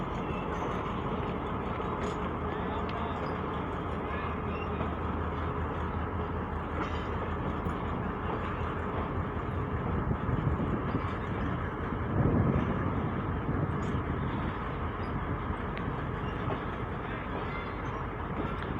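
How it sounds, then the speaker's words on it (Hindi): A Mehr Express train rake rumbles out of Multan station, a heavy low roar of rolling wagons with faint clatter, steady and close, swelling slightly toward the middle. "अभी इस वक्त जो ये महर एक्सप्रेस का रेक निकल रहा है"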